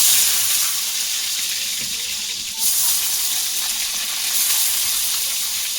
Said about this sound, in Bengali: আলুটা ভেজে নেবো একটু।